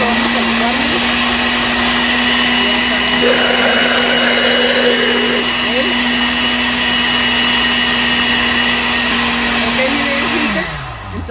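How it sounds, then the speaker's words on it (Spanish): A blender runs continuously at a loud, steady whine while blending beef stew ingredients, then winds down as it is switched off near the end. "aquí ya ponemos todo y ahorita lo vamos a licuar"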